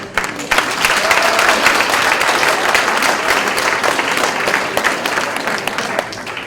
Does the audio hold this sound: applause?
yes